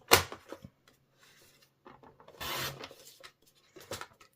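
Cardstock for a card base is cut and handled, giving short, dry scraping and slicing strokes up close, with a longer rasp in the middle and a few small taps and rustles.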